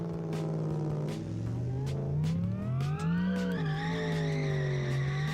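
Supercharged Railton car engine in a video game, a steady loud droning note that rises and falls in pitch as the revs climb and ease, with a faint tyre-scrub edge and no talk.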